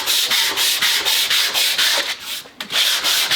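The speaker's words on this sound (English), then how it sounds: "So I want to take a little bit of sandpaper and give this just a little bit" Sandpaper worked by hand across a wooden Telecaster guitar blank, rhythmic back-and-forth rasping strokes, close and loud, with a brief pause near the end and no voices.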